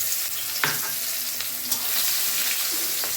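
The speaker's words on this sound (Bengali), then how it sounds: "এর মধ্যে আমি রসুন আর পেঁয়াজটাকে এবার দিয়ে দিলাম" Garlic and onion sizzle and fry steadily in hot oil with whole cardamom, cloves and cinnamon, a dense close crackle with a few stirring scrapes and no talking.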